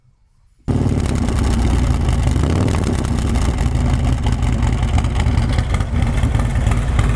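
A 2019 Harley-Davidson Road Glide V-twin with a D&D 2-to-1 exhaust and dyno tune roars to life after a brief silence, then holds a loud, steady, throaty rumble close by with slight revving swells.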